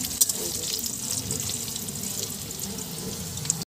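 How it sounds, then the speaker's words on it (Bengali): Potatoes frying in a pan in a home kitchen, a continuous hissing sizzle close by that stays steady throughout, with a couple of faint clinks. "ওখানে দেখো আলু ভাজা হচ্ছে"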